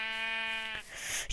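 A single sheep in a survival video game bleats once in a long, wavering, nasal cry. It sounds close and clear, then cuts off into a short burst of game noise.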